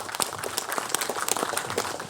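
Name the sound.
applause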